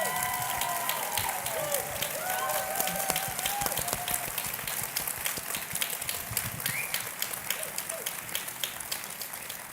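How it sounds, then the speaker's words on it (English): Applause from a large crowd at a conference plenary, continuous dense clapping with scattered whoops and cheering voices mixed in throughout. "Please give them a giant round of applause."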